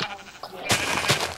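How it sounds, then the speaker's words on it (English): A sheep bleats in a survival video game, a short bleat that breaks in suddenly and rings loud and close after a quieter start. "We can spawn two sheep and cut them."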